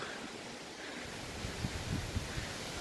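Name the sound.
wind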